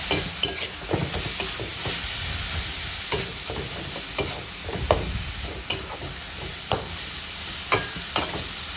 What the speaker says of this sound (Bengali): শাক একদম অল্প, একদম ভাজা ভাজা করে নিচ্ছি।